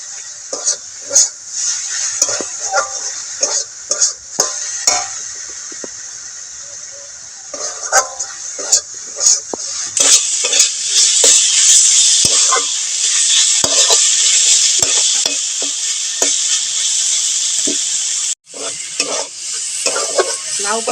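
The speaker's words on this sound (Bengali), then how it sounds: "লাউ পাতা বাটার জন্য লাউ পাতা এই যে ভাজা হয়ে গেছে" Bottle gourd leaves fry in a pan with a loud, continuous sizzle, broken by repeated stirring scrapes and taps of a utensil against the pan. No one speaks.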